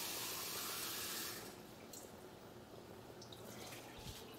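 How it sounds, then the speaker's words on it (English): Water poured from a container into homemade red sauce in a large batch, a steady splashing pour at first that stops after about a second, leaving a faint quiet background. "He's adding more water."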